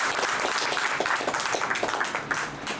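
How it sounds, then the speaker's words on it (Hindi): Audience applause for a guru at a GSRC leaders meeting, dense steady clapping from a crowd lasting a few seconds with no voices over it. "जय जीएसआर से एक बार हमारे गुरु जी के लिए जोरदार ताली।"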